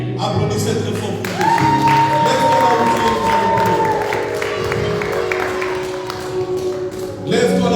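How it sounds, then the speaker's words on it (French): A church congregation applauds loudly and continuously in a dense, sustained wash of clapping, with voices and tonal sound layered over it throughout. "Applaudissez très fort pour"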